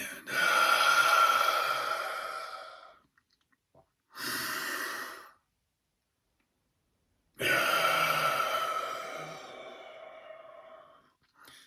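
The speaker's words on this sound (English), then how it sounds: "then exhale out through the mouth nice and loud and audible" Deep, loud exhales through the mouth come one after another: a long breath out, a shorter one, then another long one. Each is close and breathy, with silent gaps between them.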